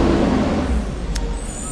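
A garbage truck idles outside, its low engine rumble briefly followed by a sharp hiss of air brakes, heard from a moderate distance.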